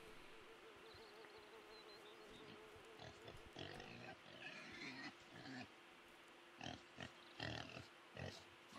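Pigs in the video game Mold give short oinks and grunts in scattered bursts, moderately close, over a steady buzzing game ambience with insect-like drone.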